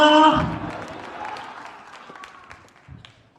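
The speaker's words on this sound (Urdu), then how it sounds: "میں کہتا ہوں زوردار تالیاں اور ہاللویا کے نعرے" A congregation at a Good Friday church service breaks into loud applause that starts strong and steadily fades over a few seconds.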